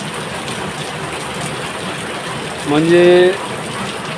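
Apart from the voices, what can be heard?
heavy rain falling in Jalna city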